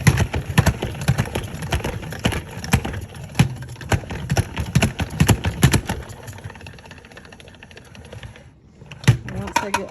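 A salad spinner whirled to dry freshly rinsed mullein roots gives a rapid, rattling, ratchet-like clicking that runs steadily for several seconds, then slows and fades before a final brief burst, close up.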